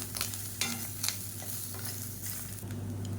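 Grated coconut roasts in a pan for thuvayal, crackling in a soft, continuous sizzle, with light scraping strokes from a spatula and a low hum from the stove.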